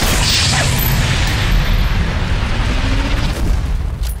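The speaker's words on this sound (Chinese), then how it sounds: "哇，好大嘅爆炸" A huge, sustained explosion roars continuously for about four seconds in Sniper Elite 4 during a night raid on the Lorino shipyard, with no talking over it.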